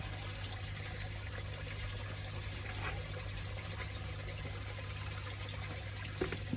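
Water flows steadily through an aquarium filter, a constant quiet wash under a low steady hum from the equipment, with no talking.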